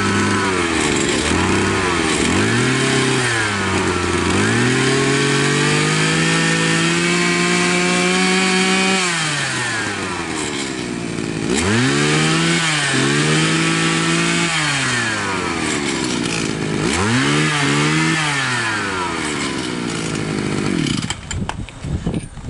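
A petrol grass trimmer engine revs repeatedly, rising to a higher whine and dropping back in several cycles as the idle screw is adjusted, loud and close.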